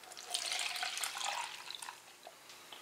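Used engine coolant from a Ford F250 6.0L is poured into a container, making a steady close splashing, gurgling pour that runs for about two seconds, then tapers into a few drips, with no talking.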